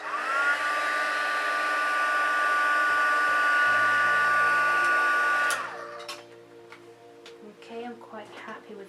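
A heat tool heat-sets creases in a craft project, its loud, steady electric whine and airflow running for about five seconds before winding down. Soft handling clatter and a voice follow afterward.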